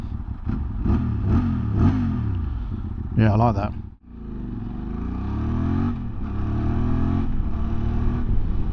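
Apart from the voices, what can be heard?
QJ Motor motorcycle engine running and revving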